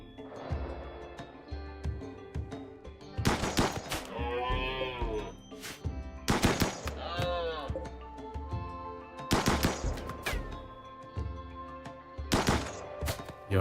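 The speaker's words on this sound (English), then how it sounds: "Johan's shooting kind of stinks" Sporadic gunfire in the colony game Rimworld, a few sharp bursts of shots spaced several seconds apart, mixed with cattle mooing and other colony sounds, with quiet talk in between.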